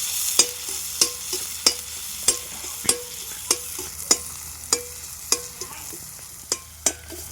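Onions sauté in oil for a prawn gravy in a village kitchen, a soft sizzle under a steady rhythm of about a dozen sharp spatula taps and scrapes against the pan, close and distinct.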